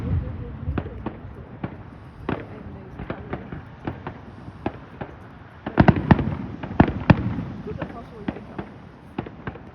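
Fireworks bursting outdoors in an irregular string of sharp cracks and pops, some near and loud, others fainter, clustering densely midway, with people chatting quietly underneath and some wind noise.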